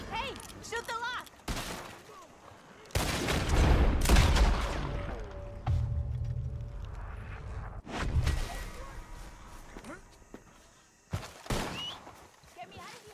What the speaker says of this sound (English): Hey, shoot the lock!